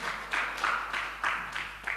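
Church congregation clapping during a worship service, a steady wash of applause with rhythmic bursts of claps lasting throughout, fairly even and moderately loud.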